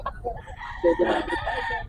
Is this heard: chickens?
yes